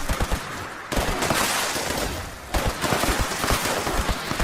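Rapid bursts of a legacy weapon firing in Fallout 76 at Harper's Ferry, two long volleys of dense automatic shots separated by a brief pause, loud and close.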